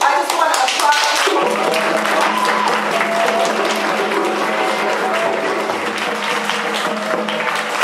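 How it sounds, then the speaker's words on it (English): Banquet audience applauding committee members at an awards dinner, a full, sustained round of close, crisp clapping lasting the whole stretch, with faint voices mixed in. "All of our banquet committee members, I just want to applaud you."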